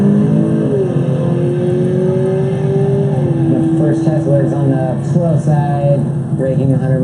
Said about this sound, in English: The first Tesla is on the slow side.